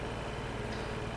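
An old farm tractor's engine running steadily while mowing in a video game, a low, continuous, even drone heard faintly and alone.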